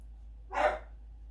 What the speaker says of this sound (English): And my dog joining us.